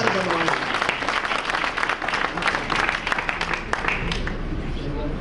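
An audience at a political party council meeting claps in a dense, sustained burst of applause that swells and then tapers slightly, with no speech over it.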